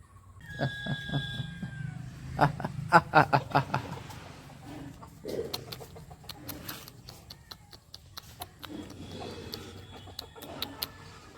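Chickens cluck softly while scraps of goat fat scatter and tap around them, with a burst of rapid pecking early on; quiet, with faint sounds in the background.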